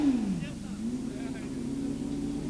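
Suzuki drag bike at the 1989 National Power Sports Festival at Aintree, its engine droning steadily as the rear tyre spins to heat up, a continuous loud mechanical hum with a brief pitch dip early on.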